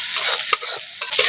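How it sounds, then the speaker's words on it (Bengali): A single egg scrambled into small bits in hot oil, loud sizzling and spitting with scraping stir strokes of a spatula, bursts swelling near the end. "ডিমটাকে এইভাবে করে নাড়াচাড়া করে কুচি কুচি করে ভেজে নেব।"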